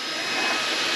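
AiDot 280-watt cordless vacuum cleaner running on its high setting, a steady loud broadband whoosh and motor whine that holds evenly for about a second, with no talking.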